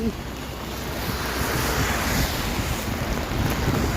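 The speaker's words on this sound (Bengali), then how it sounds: "রোডে একদম কি পরিমাণ পানি দেখেন গাইস, কি পানির স্রোত।" Floodwater rushes along a flooded road in a steady, loud broadband roar of flowing current, with wind buffeting the microphone throughout and no other distinct sounds.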